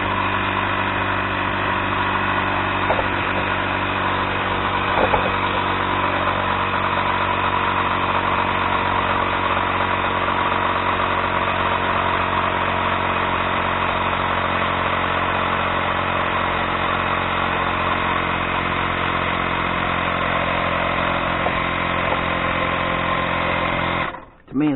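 A pump inflating a bike tire's inner tube drones loudly and steadily for nearly 25 seconds, a continuous motor-like hum that cuts off abruptly at the very end.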